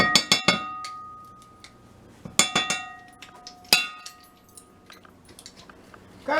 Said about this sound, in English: so now I'm scraping out the garlic of my garlic press